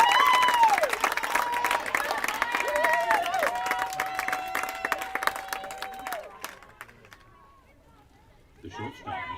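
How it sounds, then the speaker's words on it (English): A crowd cheers and shouts at a girls varsity high school softball game, loud and lively with whistle-like calls and voices, easing off and then flaring briefly again near the end. "lots of excitement here in the crowd as number 6 is caught out"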